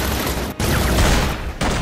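Recorded gunfire for Batman Arkham City crackles as a loud, continuous volley of rapid shots, dipping briefly into two short gaps before the firing resumes.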